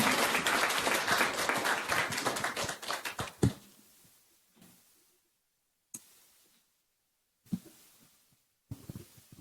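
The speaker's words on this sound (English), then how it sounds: "Can we please have a big round of applause for all of our speakers?" An audience applauding panel speakers at a roundtable discussion, a burst of many hands clapping that fades out after a few seconds, followed by near silence with a few isolated taps and knocks.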